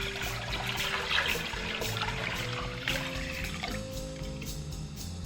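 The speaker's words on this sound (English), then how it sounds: "So dump the water here. So this is 1 gallon of water." A gallon of water is poured into a container for homemade mead, a continuous splashing, gurgling pour lasting several seconds at close range with no talking.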